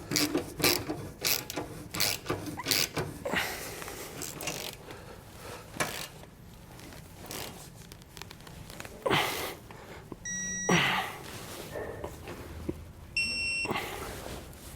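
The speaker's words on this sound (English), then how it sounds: "Now we're going to tighten and torque all of our hardware to the specifications or instructions." A ratchet with a 15mm socket tightens self-threading hitch receiver bolts on a 2015 Ford Transit T150, giving rapid clicking bursts with brief metallic clanks and pauses, fairly close and moderately loud.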